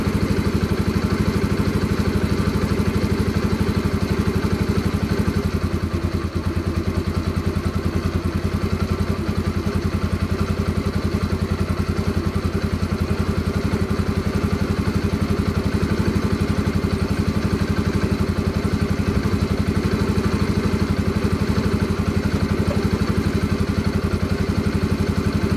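A cold motorcycle engine idles steadily while warming up, a continuous loud close-up rumble with slight clatter and no audible revving.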